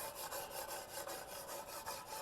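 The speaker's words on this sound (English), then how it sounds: "I'm going over here with my fingernails like crazy, and nothing happens." Rapid fingernail scratching and rubbing against a hard, smooth wood surface coated with gloss tabletop finish, a steady back-and-forth rasp repeating throughout, close and fairly quiet.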